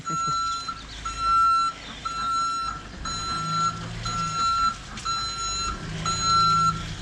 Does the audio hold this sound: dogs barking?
no